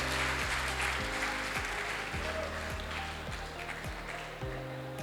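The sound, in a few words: audience applause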